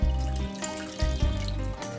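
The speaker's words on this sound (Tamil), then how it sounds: "நான் 2 தண்ணி அலாச்சிட்டு 3ஆவது தண்ணி எடுத்து வச்சிருக்கிறேன். அதை தான் ஊற்றிக்கிறேன்." Cloudy third-rinse rice water is poured from a vessel into a cooking pot for rasam: a steady splashing stream with a couple of brief surges, close by and alone.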